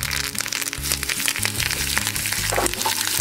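Curry leaves sizzle and crackle in hot oil during tempering for a quick South Indian buttermilk rasam, a steady loud frying hiss with sharp pops throughout, no voices.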